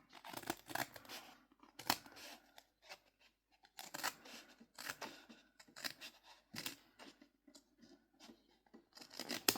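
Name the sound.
cutting a piece of paper envelope with scissors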